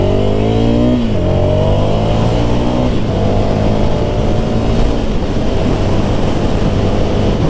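A Ducati Scrambler Desert Sled motorcycle rides along Malibu Canyon Road, its engine loud and close with rising and dropping revs through gear changes over steady wind roar.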